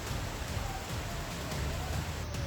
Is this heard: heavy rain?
yes